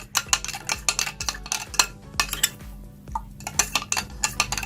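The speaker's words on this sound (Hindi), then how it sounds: "अब मैं इसको मिक्स करूंगी और सारे का सारा सोप जो है इसके बीच में मिक्स हो जाएगा" A utensil stirring melted soap briskly in a container, with repeated clinks and scrapes in a steady rhythm, close and alone.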